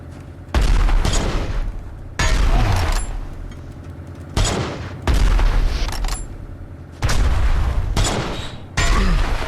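Rocket launcher explosions in Dysmantle go off in a series of loud, heavy booms, about six blasts, each hitting hard and fading into a rumbling tail before the next lands.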